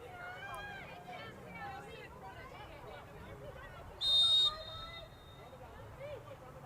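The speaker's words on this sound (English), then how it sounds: "The whistle will begin play once again." A referee's whistle at an NCAA women's soccer match between Kent State and Kentucky gives one short, sharp blast under continuous commentary and crowd noise.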